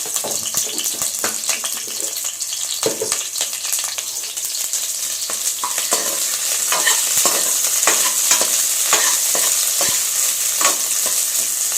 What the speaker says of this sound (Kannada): ಈರುಳ್ಳಿ ಹಾಕ್ಕೊತಾ ಇದ್ದೀನಿ ಮತ್ತು ಕರಿಬೇವು ಹಾಕ್ಕೊತಾ ಇದ್ದೀನಿ